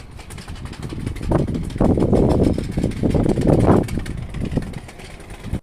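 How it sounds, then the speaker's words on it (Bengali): Wind blowing outdoors on a spring afternoon in Belgium, a loud, close, rough rushing that swells in gusts and stays steady for several seconds before cutting off. "এটা হচ্ছে বাইরে বাতাসের আওয়াজ।"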